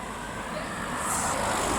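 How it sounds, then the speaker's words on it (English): Steady broadband wind rush mixed with road traffic noise beside a rebuilt seaside pier at Weston-super-Mare, continuous and fairly loud with no distinct events, swelling slightly in the second half. "I apologise for the wind and the road noise."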